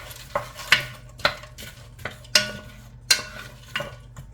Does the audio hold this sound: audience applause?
no